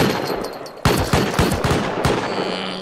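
Automated turrets in the Rust video game fire a loud burst of rapid gunshots, a first shot followed by a dense volley of repeated cracks that keeps going to the end, with no talk over it.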